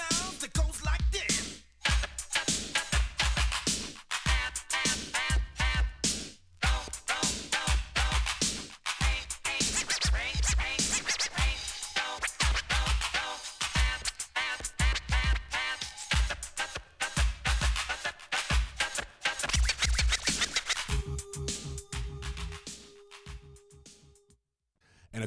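A DJ cutting up a song on turntables, a dense, continuous run of music with rhythmic chopped breaks and scratch cuts, loud and steady throughout, no talking.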